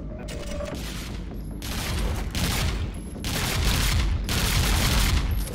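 Submachine gun firing in the shooter game Fuse: three or four long, loud bursts of rapid automatic fire separated by brief pauses, with faint mechanical clicks between them.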